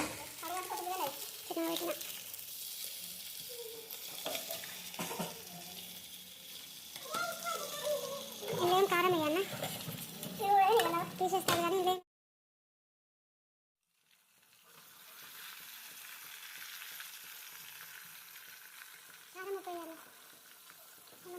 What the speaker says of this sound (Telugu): ఈ విధంగా ఆయిల్లో ఫ్రై చేసుకుంటే ఈ చేపలు అనేవి కొంచెం టేస్టీగా బాగా వస్తాయన్నమాట